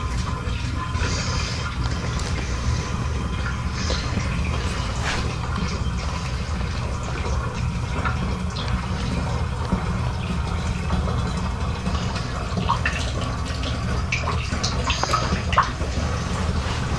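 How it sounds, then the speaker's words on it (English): Water pouring steadily into a batch of homemade wine already holding 3 kilograms of sugar, a continuous close filling rush with faint drips and a low hum underneath, no talking. "So I'm going to top it off with water real quick."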